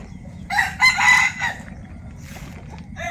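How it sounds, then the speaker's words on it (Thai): A rooster crows once, loud and fairly close, its call rising and breaking in the middle, followed by faint clucking over quiet outdoor ambience at an organic farmstay among rice fields in Thailand. "ยังมี ไก่ครับไก่ อ่า เป็นไก่ ทั้งไก่แจ้ไก่สวยงามนะครับ"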